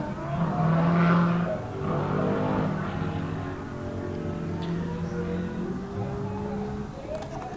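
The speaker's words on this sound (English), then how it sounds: "pushing that tube chassis car as hard as he can." A tube chassis race car is pushed hard around Buttonwillow raceway during a time attack final, its engine roaring loud and close with rising and falling revs through a corner.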